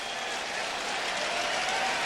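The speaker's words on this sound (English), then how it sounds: "The reason for the fans cheering." Baseball crowd at Yankee Stadium applauding and cheering a strikeout by Andy Pettitte: a dense, steady wash of clapping and crowd roar, with a commentator's voice faintly over it.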